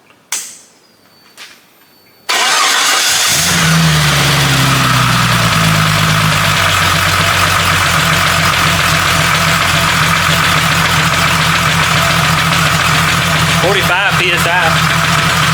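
A 4.0 engine running 0W20 oil at 80 degrees sits quiet for a couple of seconds with a few faint clicks. It then cranks and catches with a loud roar that settles into a steady, close idle hum.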